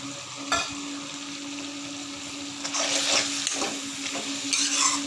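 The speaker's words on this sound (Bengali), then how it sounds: "এখন একটু নেড়ে চেড়ে আবার 5 মিনিটের মতো রান্না করে নেব।" Mochar ghonto with fried potatoes and grated coconut stirred in a pan, a continuous frying hiss with a low steady hum underneath and scraping strokes that grow louder toward the end, close up with no talking.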